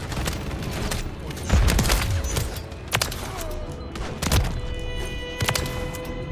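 A grenade blast in Call of Duty: Modern Warfare III lands as a heavy thump amid a string of sharp gunfire bursts and impacts during a multiplayer match, with a voice briefly heard.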